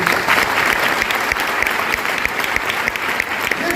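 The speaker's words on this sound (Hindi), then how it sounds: "अगर समझ में आ गई जोरदार ताली अपने लिए" Loud, enthusiastic applause from a seminar audience, a thick continuous roar of many hands clapping with a strong, even rhythm filling the whole stretch.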